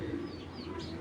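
Domestic pigeons coo nearby in a loft, soft low repeated coos, brief and close, with faint background noise and no speech.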